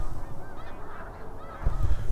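A flock of snow geese honks at sunrise near Victoriaville, Quebec, with overlapping calls rising from a busy, wind-tinged outdoor background, growing louder and closer near the end, with no voices.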